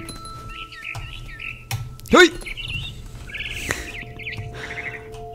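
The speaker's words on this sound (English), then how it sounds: "Where's the bird gone? He's up there." Short warbling bird chirps from the video game What Remains of Edith Finch repeat a few times under game ambience, with a voice calling out briefly in between.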